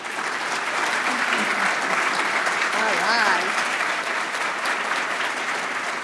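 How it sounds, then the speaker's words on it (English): Audience at the Texas Supreme Court Historical Society's annual John Hemphill Dinner applauds the standing fellows, a dense, steady round of clapping filling the hall before a voice briefly speaks over it. "please give them a warm round of applause"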